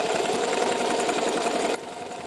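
A sewing machine runs steadily with a dense, even stitching hum that drops abruptly in level near the end, with no talking.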